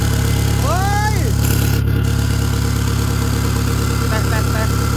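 Toyota Tiger pickup fitted with a 2KD diesel engine idles with a steady, loud low rumble throughout, while a person nearby talks briefly over it.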